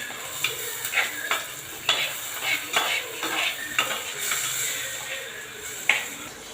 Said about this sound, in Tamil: நல்லா கலரி விடுங்க. தக்காளி நல்லா மத்தியணும்.